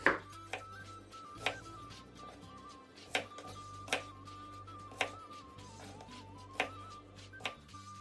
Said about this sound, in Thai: ให้เราหั่นหอมหัวใหญ่ของเราเป็นชิ้นๆเลยครับ